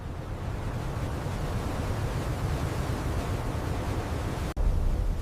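Storm over the open ocean, a steady roar of wind and surf filling the air without letup, with one abrupt momentary dropout near the end before the heavy rushing resumes.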